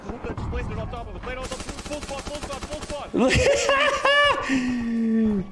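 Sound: gunfire in the video game Arma Reforger

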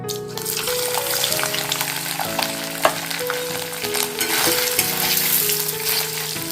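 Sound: paneer frying in hot oil

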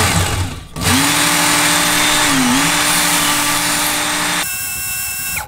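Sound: knife being sharpened with fine-grit sandpaper

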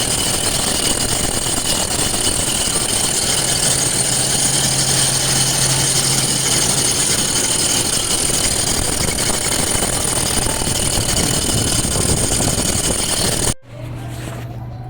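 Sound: noisy engine drive belt of a Toyota Fortuner

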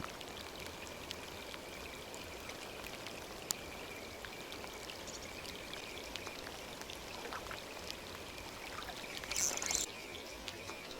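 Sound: rain falling

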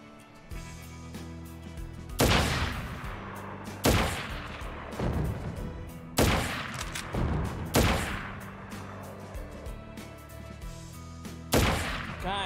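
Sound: sniper rifle shots in video game Crisis Core Final Fantasy VII

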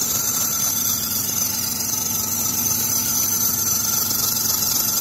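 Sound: Chrysler 300 engine running, noise from idler pulley or tensioner

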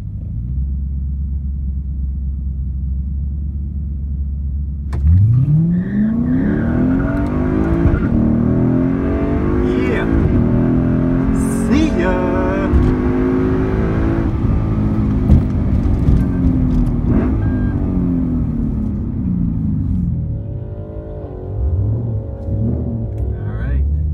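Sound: tuned BMW 135i with downpipe accelerating at drag strip

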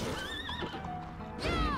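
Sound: water horse enemy neighing in Bloodstained video game

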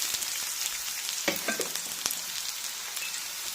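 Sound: curry leaves and dried red chillies frying in oil

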